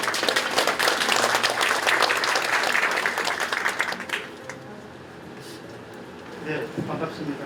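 Loud, dense audience applause at a church service opening a memorial museum, continuous clapping for about four seconds that dies away into quieter room noise, with a brief voice near the end.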